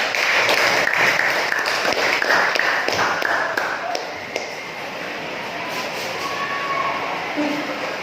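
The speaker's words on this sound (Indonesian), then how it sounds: "Tepuk tangan untuk kelompok 3." A classroom applauds a student group, dense clapping filling the room for about four seconds and then thinning into quieter scattered clapping and room noise.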